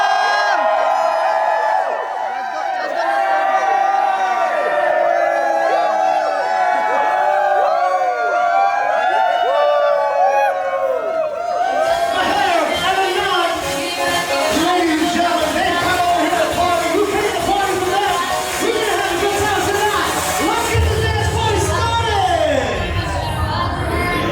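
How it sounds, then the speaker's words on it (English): A crowd at a wedding reception at White Oaks Resort in Niagara-on-the-Lake cheers and whoops continuously, a dense, loud roar of many voices that swells midway. "More energy, everybody. More energy. More energy. Everybody cheer."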